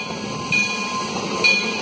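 A Roaring Camp to Santa Cruz train rumbles past nearby, a steady low roar with a couple of faint high metallic squeals.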